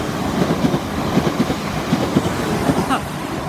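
A Class 450 passenger train rolls through St Denys station close by, a loud steady rumble with rhythmic clickety-clack from the wheels over the rail joints and a brief squeal near the end.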